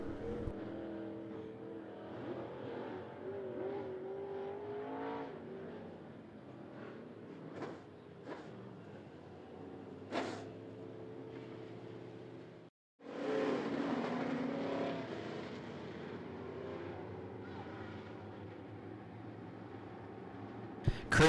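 Steel Head late model race cars roar around the I-75 Raceway oval, a loud, continuous engine drone broken by a brief dropout and then a renewed surge as the field takes the green flag.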